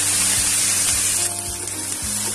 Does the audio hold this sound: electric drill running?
no